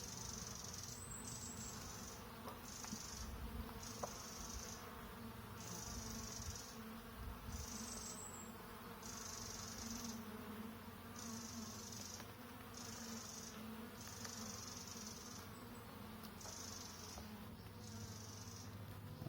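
Honey bees buzzing steadily at an open hive with capped honey and nectar-filled comb, a dense continuous drone close by with no voices.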